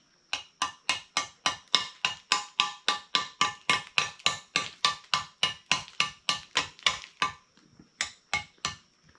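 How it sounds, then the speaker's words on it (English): A hammer taps repeatedly on concrete blocks during block work on a damaged shop, about thirty sharp even strikes in quick steady rhythm, loud and close, with a brief pause before three last blows. "If you was to hit out with the hammer, you'd break that corner out."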